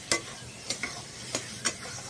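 Sea crab being stir-fried with masala in a pan, a steady low sizzle broken by four sharp scraping clanks of a spatula at regular intervals, close and fairly quiet.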